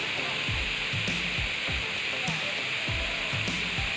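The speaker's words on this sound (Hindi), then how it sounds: "Just listen to the sound of waterfall." A waterfall on the Thekkady to Alleppey route in Kerala, heard as a continuous, even rushing roar of falling water with no breaks.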